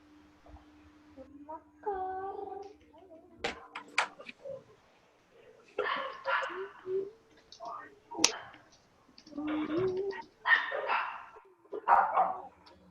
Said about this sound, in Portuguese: tem cachorro aqui no vizinho que fica latindo